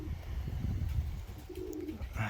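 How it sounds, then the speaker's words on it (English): Feral pigeon cooing nearby, a short low murmuring coo standing out over a steady outdoor background with rustling. "That's a feral pigeon."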